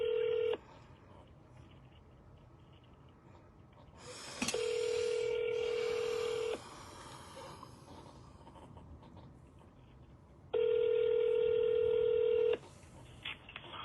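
A telephone tone starts briefly, then keypad dialing tones sound before two long ringback tones on the line, steady and clear with little background.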